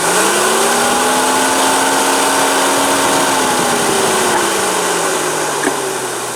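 A VW radiator cooling fan spinning at high speed, a loud steady whirring drone with a clear tone that holds for several seconds, then eases slightly lower near the end.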